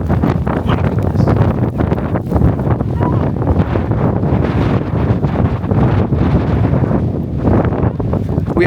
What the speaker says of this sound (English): The wind gust just blew sand, and it's not even sand, it's like heavy pebbles.